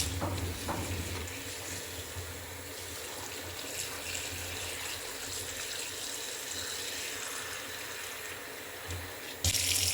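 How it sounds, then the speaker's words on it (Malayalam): Water poured over chicken to thaw it, a steady running stream filling a vessel close by, continuous and even, ending with a brief louder splash. "കുറച്ച് ഇതിൽ വെള്ളം ഒഴിച്ചിട്ട് വെക്കുന്നുണ്ട്"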